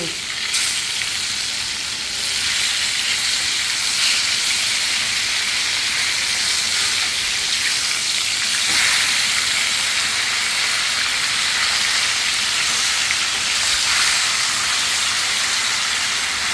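Large koi fish pieces fry in hot oil in a pan, a loud continuous sizzle and crackle with steady hiss that holds throughout, with no talking.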